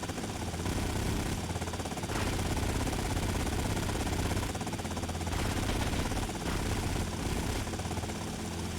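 A helicopter in the video game GTA: Vice City, a loud, steady rotor and engine roar that fills the whole stretch, pulsing slightly with rapid chopping and gunfire-like bursts mixed in, with no talking.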